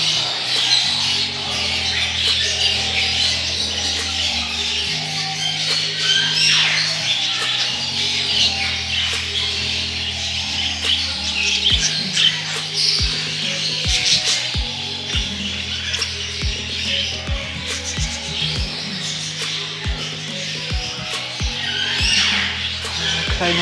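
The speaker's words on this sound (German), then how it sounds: "Kleine Eulen." Young owls at a zoo give repeated rasping squawks and chirps, dense and continuous over a steady low background hum.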